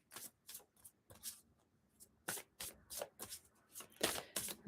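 Tarot cards being shuffled up close, with quiet riffling and sliding bursts that come in uneven clusters with gaps between them.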